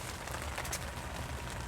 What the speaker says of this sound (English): So we finally started getting a steady rain in the tent.